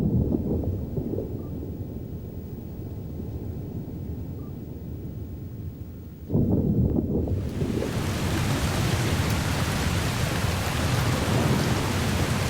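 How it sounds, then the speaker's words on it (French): Heavy rain suddenly bursts into a loud downpour partway through, replacing a low rumbling wash of thunder and wind; the torrential rain roars steadily and close for the rest of the stretch, with no voices. "Pluie diluvienne et soudaine comme ici"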